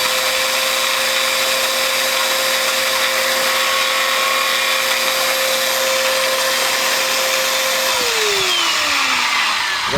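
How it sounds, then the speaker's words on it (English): A Bissell Power Force upright vacuum cleaner motor running loud and close with a steady high whine, its pitch dropping sharply near the end as it winds down; the motor is unhealthy. "let's fire this vacuum up and see what's going on"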